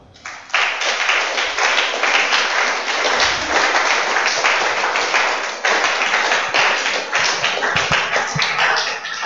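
Congregation applauding during a church homily, a loud dense burst of clapping that begins abruptly and carries on steadily for several seconds, with no voices over it.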